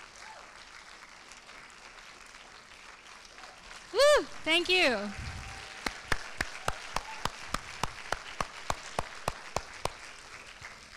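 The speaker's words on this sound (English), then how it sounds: "Give yourselves a round of applause" An audience applauds the host committee at a Los Angeles film screening event: a loud whoop and cheer opens it, then a run of sharp, evenly spaced close claps, and a voice says thanks.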